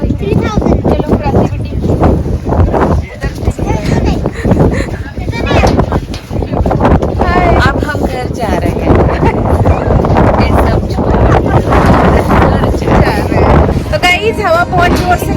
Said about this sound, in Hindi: हवा बहुत जोर से चालू हो गई